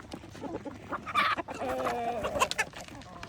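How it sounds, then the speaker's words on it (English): About thirty young laying hens cluck and chatter close by in a farm setting. Their calls overlap in a busy, continuous stream of short clucks and squawks, with a few louder, rising calls in the middle. "So I have about 30 new hens here"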